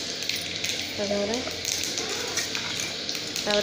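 Cumin seeds and bay leaves sizzle and crackle in hot oil at the start of a fish and potato curry, a close steady frying hiss under a voice speaking.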